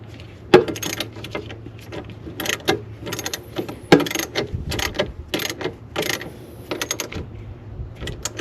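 An 11mm socket on a ratchet wrench tightens the clamp of a K&N cold air intake on a 2007 Dodge Ram 1500 5.7 Hemi, giving loud, close bursts of rapid ratcheting clicks with short pauses between strokes.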